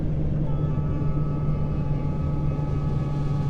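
A train rumbling past in a trucking video game, a steady low drone with a sustained tonal hum and a faint whistle-like line, continuous throughout.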